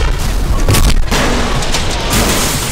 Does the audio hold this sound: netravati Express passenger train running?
no